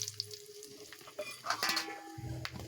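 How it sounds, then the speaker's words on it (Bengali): Garam masala and whole spices sizzling in hot oil in a wok for chicken biryani, with faint crackling, a low steady hiss and light utensil clinks and scrapes, quiet and close. "তারপরে আমি কড়ার মধ্যে মশলা দেবো সব"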